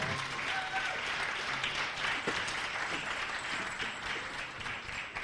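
Audience gives a cast member a warm round of applause after a stage performance, sustained crowd clapping for several seconds at a moderate distance.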